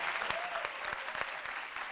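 Applause from a studio audience on a French-language midday TV show, a dense continuous patter of many hands with a few sharper nearby claps, fairly quiet overall and without speech.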